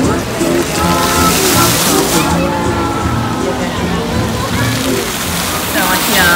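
An indoor water fountain at The Grove shopping mall flows with a constant loud rush and splash, heard close and continuous beneath someone talking.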